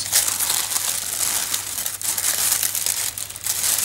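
Wrapping paper crumpled and crinkled continuously while a gift banner is unwrapped, a dense, close rustling that fills the whole stretch without any talking.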